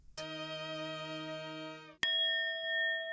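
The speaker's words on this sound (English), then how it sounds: "And there goes the bell." A ringing bell strikes once with a long, harmonically rich sustain, then a second brighter ding cuts in and rings on clearly, both close and alone.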